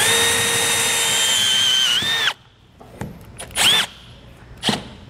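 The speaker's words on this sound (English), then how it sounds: "But we're gonna go ahead and take our 3/4 inch drill bit here." Power drill boring a 3/4 inch hole for a utility light grommet, a loud steady whine for about two seconds that bends in pitch as the bit cuts through, then stops, followed by short bursts of drilling and clicks.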